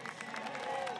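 At the IRONMAN New Zealand finish line a crowd cheers and claps in a brief, steady wash of noise, with a voice talking over it.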